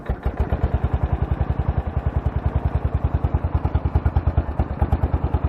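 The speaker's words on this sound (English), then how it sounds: "so all we do to start this engine is choke, a little bit of throttle, ignition on" A Yazoo mower engine starts and runs, with a steady fast thumping beat close by and loud, no voices over it.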